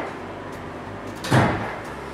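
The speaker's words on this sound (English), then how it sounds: "When I'm done, I quickly close the door because it's cold outside." A workshop front door is pulled shut on a cold day, a single soft thud over a low background hum, with no talking.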